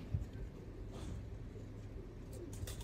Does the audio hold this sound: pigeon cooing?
yes